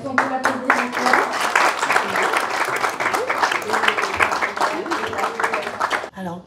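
Sustained loud applause fills a hall as an audience claps for an award winner, steady dense hand clapping that cuts off abruptly at the end, with some voices mixed in.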